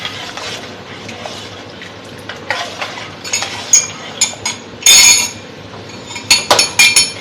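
A spoon stirs sugar into syrup for homemade green sharbat, clinking against the container in irregular taps that grow louder and quicker toward the end.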